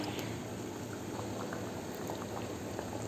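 Sardine fish curry simmering in a pot just as soaked tamarind water is added, a faint, steady bubbling and liquid burble with soft pops throughout, no voices.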